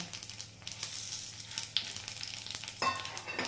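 Bay leaves, dried chilies and panch phoron fry in hot oil, a faint, crackling sizzle with scattered pops and a sharper burst near the end, no voices.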